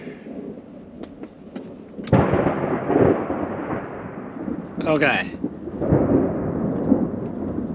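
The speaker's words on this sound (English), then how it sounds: "I'm gonna take in this thunderstorm." Thunder rumbles and cracks close by during a thunderstorm at a campsite, a sharp loud clap followed by long rolling booms over steady rain; a person briefly speaks once.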